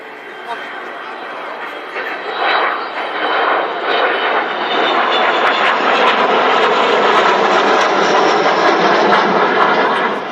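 An Avro Vulcan jet bomber, XH558, flies past at the RAF Cosford Airshow, its broad rumbling roar swelling and holding steady with a whining edge.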